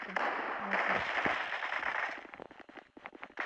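A bomb blast in the mobile shooter game Zula Mobile bursts loudly and rumbles, followed by a string of crackling gunfire pops.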